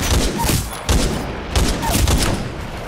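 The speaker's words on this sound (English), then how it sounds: "Incoming hostile fire!" Gunfire during an Attrition match in Titanfall 2: several close, sharp bursts and rapid shots crackle one after another in a busy battle.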